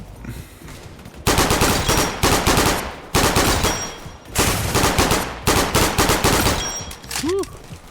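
Rapid bursts of automatic gunfire from a weapon in a first-person shooter video game, loud and close, in several long sustained volleys separated by brief pauses, with a short rising electronic tone near the end.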